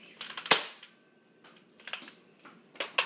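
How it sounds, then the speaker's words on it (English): Toy gun with weak, nearly dead batteries: a few short, faint snapping shots spaced apart, each a brief click-like pop with quiet gaps between. "I'm gonna shoot it."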